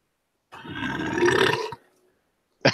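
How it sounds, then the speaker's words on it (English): A single long, loud burp from someone reading a script aloud on a casual livestream, rumbling for over a second close to the microphone before a short sound at the end. "I don't think there's a belch in the script there."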